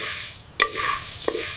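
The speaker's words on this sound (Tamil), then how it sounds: "சட்டியில் எண்ணெய் விடாமல் இந்த மசாலாவை பொன்னிறமாக வறுத்து எடுத்துக்கணும்." Whole spices such as pepper, cumin, coriander and dried chillies dry-roasting in a pan without oil, with a couple of soft stirring scrapes and a faint sizzle, close and quiet.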